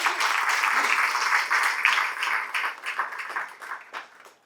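Audience applause at a Carnatic music talk, a dense, moderately loud patter of clapping hands that thins and fades out toward the end.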